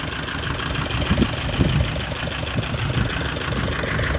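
A mini tractor engine, a Yuto 180, chugs steadily close by, a low rough idle with faint knocking pulses and no pauses.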